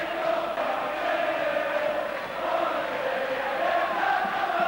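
A St Helens rugby crowd roars after a last-minute try, a steady, dense wall of distant cheering and noise that holds at even loudness throughout.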